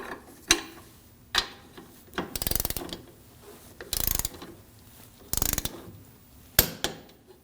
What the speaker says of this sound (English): Torque the strut nut to 59 foot-pounds.